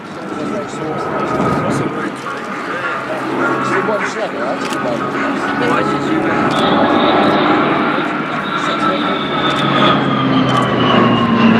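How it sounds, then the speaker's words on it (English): Spartan military transport aircraft rolling during an airshow display at RAF Fairford, its steady engine drone sustained and fairly loud throughout, with a commentator talking over it. "Spartan performs a roll under in which we can appreciate the high roll rate of the body"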